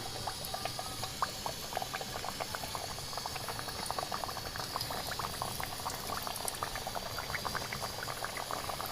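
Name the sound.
kachoris frying in hot oil in a kadai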